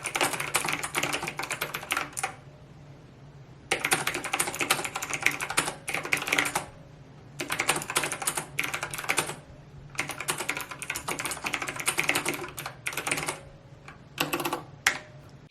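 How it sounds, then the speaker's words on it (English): Clicky, springy key presses on an iPad Pro keyboard accessory come in close, steady bursts of rapid typing, broken by short pauses between runs. "The clickiness of the keyboard is nice, but it's got a lot of springiness"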